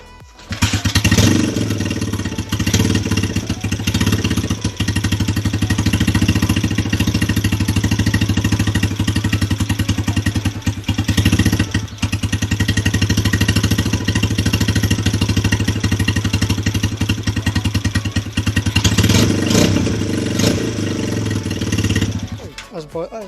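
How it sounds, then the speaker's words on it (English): A 125cc bobber motorcycle kickstarts and settles into a loud, steady, close-up engine run with a dense, fast thumping pulse that holds for over twenty seconds, briefly dipping mid-way and near the end. "I'm just going to have to kickstart it, let the bike run"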